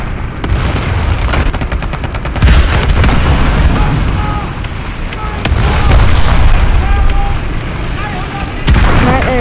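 Heavy artillery fire and explosions boom and rumble in a tank video game, loud, dense blasts with crackling debris, layered over continuous battle noise.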